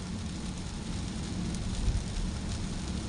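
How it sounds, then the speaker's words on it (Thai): Steady rain patters on a car crawling in heavy evening traffic on the Bangkok–Pattaya motorway, a soft, even hiss with a low rumble beneath and no talk. "ฝนตกด้วยช่วงเย็น"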